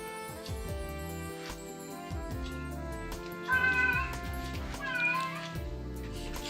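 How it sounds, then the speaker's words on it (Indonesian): Male cat meowing while approaching, several drawn-out meows over cluttered background music, moderately loud and near. "Kucing jantan auto mendekat."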